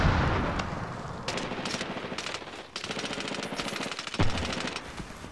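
Semi-automatic weapon fire in the Medal of Honor Warfighter video game. Rapid, loud, crackling shots come in close succession, layered over dense battle noise and booms without pause.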